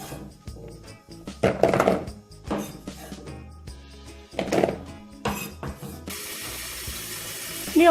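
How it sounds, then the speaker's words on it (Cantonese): Dried monk fruit is rinsed under a running kitchen tap, with bursts of splashing water and faint clinks, then a steady stream of water to close. "呢個羅漢果咧，可以略為沖洗下就得㗎啦"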